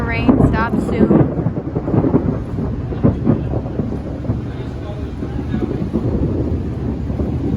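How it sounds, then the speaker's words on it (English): Heavy thunder rumbles loud and close during a rainstorm at a monster truck show venue, with rain and wind buffeting the microphone throughout and a few brief voices mixed in. "Oh, there's the thunder."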